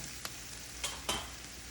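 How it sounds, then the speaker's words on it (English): Mushrooms fry in a pan with caramelizing onions, a soft continuous sizzle broken by a few scraping stirs, quiet and close, with no talking. "I'm going to go ahead and add my mushrooms now."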